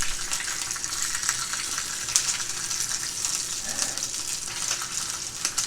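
Steady crackling sizzle of bacon frying in a hot pan, continuous and fairly close, with small pops scattered throughout and no voices.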